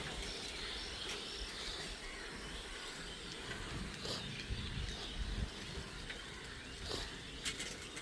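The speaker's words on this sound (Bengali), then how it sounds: "এখানে সকালে এবং সন্ধ্যায় প্রচুর পাখির আওয়াজ আমরা পাই এই জায়গাটাতে" Evening birds call faintly in the distance, with scattered chirps and a few soft coos over a steady low outdoor hiss.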